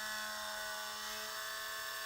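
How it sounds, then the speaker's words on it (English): A small drill bit cuts carefully at low speed into plastic toy figure material, producing an even, sustained whirring drone with a steady hum and no pauses, close up. "we'll go back in with our smaller drill bit once again"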